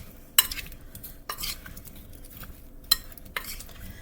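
Ingredients for a corned beef dinner stirred in a large bowl, utensil scraping and knocking against the sides in a few sharp clatters over a steady low rustle, close and moderately loud with no talking.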